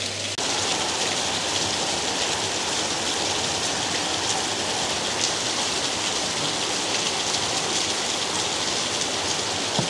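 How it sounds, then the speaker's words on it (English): Steady, dense rain pours down on the tropical island of Koh Samet, a continuous even hiss of drops on surfaces with no voices. "the rain has passed"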